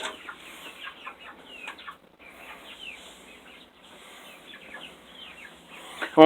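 Chickens on a chicken farm cluck and murmur steadily at moderate distance, with scattered overlapping calls throughout and a sudden louder squawk at the very end.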